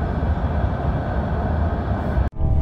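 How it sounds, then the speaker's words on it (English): A freight train rolls past on the railway with a continuous loud rumble and clatter of passing cars, which briefly cuts off near the end before resuming. "There's a train."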